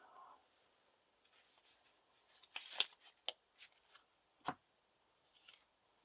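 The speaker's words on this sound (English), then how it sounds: "You discard 7 cards." Playing cards are discarded one by one during a Lord of the Rings living card game, producing faint quiet slaps and flicks in an irregular series of about seven soft snaps.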